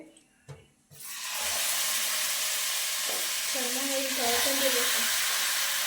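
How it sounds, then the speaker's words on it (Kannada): Goat mutton drops into an oiled pressure cooker and sets off a loud, steady sizzle right after a couple of clunks, with a voice talking faintly underneath. "ಈಗ ಮಟನ್ ಹಾಕ್ತಾ ಇದ್ದೀನಿ ಉರಿಲಿಕ್ಕೆ"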